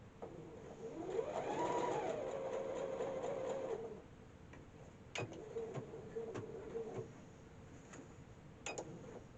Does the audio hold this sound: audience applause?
no